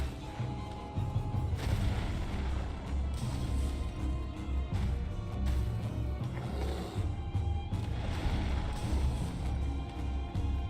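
Bombs explode in the video game Dark Souls, a series of heavy booming blasts and rumbling crashes arriving in loud bursts over roughly ten seconds, with chaotic game noise between them.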